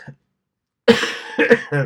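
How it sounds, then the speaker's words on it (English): A person coughs harshly a couple of times up close after a moment of silence, then starts to speak. "then I go off coughing"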